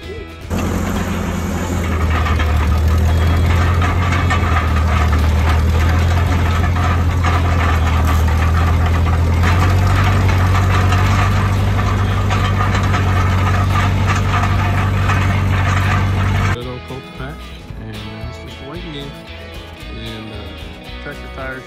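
A garden tractor engine runs steadily and loudly, pulling an implement across a beet patch in low gear, its heavy low drone holding for about sixteen seconds before cutting away to quieter ambient sound.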